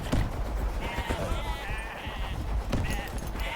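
Sheep bleat several times in short, wavering calls over a busy background with some voice activity, in the video game Wanderburg.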